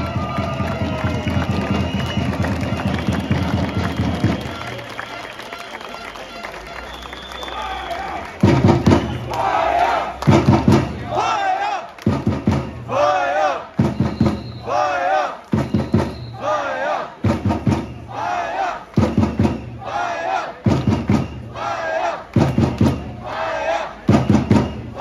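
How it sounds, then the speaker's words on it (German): A stadium crowd at a Rhein Fire versus Barcelona Dragons football game roars for the Pyromaniacs, a sustained cheer that gives way to rhythmic thumps and chanted shouts in repeated loud bursts. "Einen großen Applaus für unsere Pyromaniacs und die Flight Crew."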